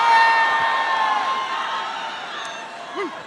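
An excited crowd cheers and shouts as Johnson takes the stage with his wife and children at a Chicago campaign rally, a dense sustained roar with whoops that slowly fades.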